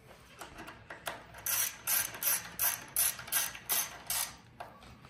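A ratchet wrench clicks in quick bursts while bolts are tightened on an E-Ride Pro SS electric bike, about a dozen close, crisp ratcheting strokes in a steady rhythm.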